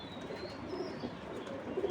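Racing pigeons cooing nearby, a soft, low rolling coo repeating under a faint background hum, with no voices.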